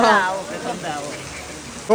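Heavy rain pours steadily in a dense hiss, with a voice briefly audible near the start.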